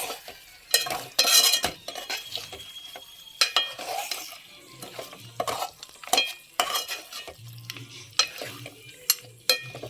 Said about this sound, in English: I have added all the pieces here. Give it a good mix.